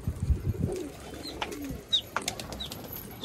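Hyderabadi pigeons give soft, scattered coos with some brief wing flutters and light knocks, fairly close but quiet.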